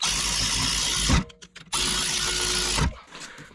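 A power tool tightens rear brake caliper bolts on a Nissan Altima, giving two close, loud whirring bursts of about a second each with a short pause between them, followed by quieter clicks.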